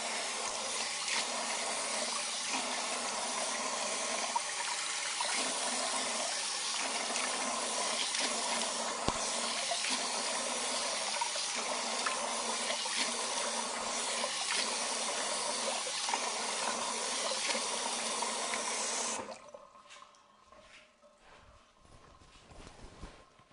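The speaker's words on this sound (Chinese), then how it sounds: "冲水先" Running water rinses a face during a salon facial treatment: a steady, close spray hiss for nearly twenty seconds that then cuts off abruptly, leaving a quiet room with faint small movements.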